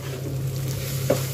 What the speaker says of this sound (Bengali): এদিকে দেখো, আলুগুলো একদম সফটলি ভাজা হয়ে গেছে